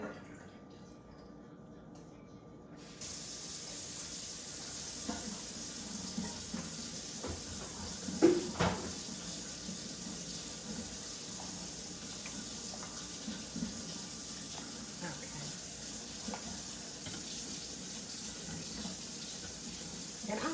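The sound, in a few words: expired liquid poured out into a sink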